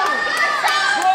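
A wrestling crowd at an indie Imperial Wrestling Entertainment show jeers at Trevor Squad, a steady roar of mixed voices and shouts that carries through the whole short stretch.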